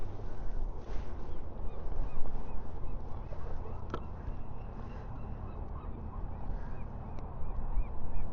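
A flock of seabirds calls at a distance over water during crabbing and herring fishing, repeated honking cries scattered over a steady low background of wind and boat rumble.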